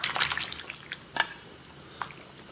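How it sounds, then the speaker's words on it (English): Water comes to a boil in a lidded iron pot while fish is stewed with mushrooms and tofu, giving a soft, steady bubbling and crackling hiss broken by a few louder pops. "Now the water is boiling."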